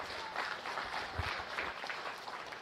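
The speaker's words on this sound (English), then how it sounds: "Let's give these exhibitors a round of applause on a great set of females they brought to us." Crowd applause at a county fair beef cattle show honoring exhibitors of the female class, dense and continuous clapping from many hands in an arena, even in loudness throughout with no speech over it.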